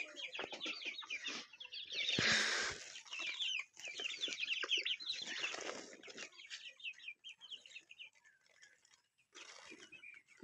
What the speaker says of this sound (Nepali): कुखुराको बारी चारो दिनु पर्छ नत्र यिनीहरूले ठुँगेर मार्छ मलाई